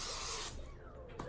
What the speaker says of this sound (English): I'm gonna get my coconut oil and spray the chicken on one side.